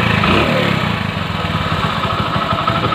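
A motorcycle engine runs at a steady idle close by, started for a mileage test on 200 ml of petrol, giving a loud, even, continuous throb throughout.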